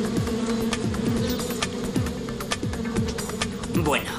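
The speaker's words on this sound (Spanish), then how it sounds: "Las avispas bloquean la entrada a la fábrica" Swarm of wasps blocking a factory entrance, a dense continuous buzzing with many wingbeats swooping close and away in rapid passes, loud and unbroken.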